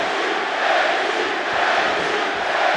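An arena crowd at a mixed martial arts fight roars for Gaethje, a loud, steady wash of cheering that fills the whole stretch.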